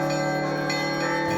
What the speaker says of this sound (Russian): Это был вот колокольный звон, он прямо оздоравливал